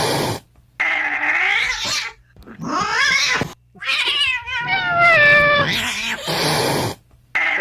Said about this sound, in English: That is a very photogenic cat.